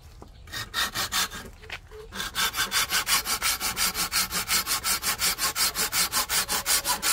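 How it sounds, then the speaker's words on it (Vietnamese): A hand saw cuts through the trunk of a large tree for firewood in steady back-and-forth strokes. The rasping is close and rhythmic, and the strokes settle into a quick, even pace after a few irregular starts. "Bên này có cái cây bự nè, là cưa làm củi luôn."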